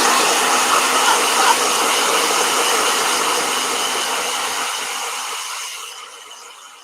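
A steady, broadband whooshing roar of a blow dryer runs continuously, loud and close, then fades and cuts off near the end.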